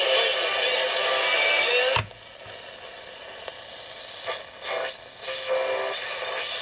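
Wideband hiss and static pour from a home-made shortwave receiver with a broad IF bandwidth, loud at first, then dropping sharply after a click into quieter noise with faint warbles and brief tones.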